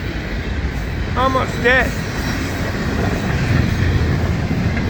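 A freight train hauling intermodal cars rolls past at Magnolia with a loud, continuous rumble and rattle of wheels close by, while someone talks over it.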